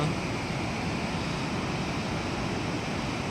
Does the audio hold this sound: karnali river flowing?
yes